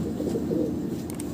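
A racing pigeon coos close by in soft, low, throaty murmurs that run steadily through the short moment, with no talking over them.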